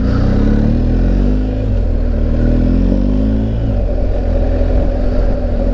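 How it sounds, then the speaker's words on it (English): A BMW R1250GSA motorcycle engine growls close by, its pitch shifting as it revs and draws nearer, loud and steady throughout. "that's a motorcycle coming at you"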